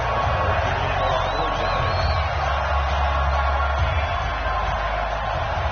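Stadium crowd noise from a Madden NFL game before a Dallas Cowboys versus Atlanta Falcons matchup: a steady, dense roar of spectators that holds level throughout, with faint whistling cheers drifting above it.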